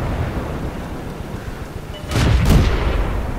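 A tank cannon in World of Tanks fires twice in quick succession, heavy booming blasts rising over a low rumbling battlefield drone.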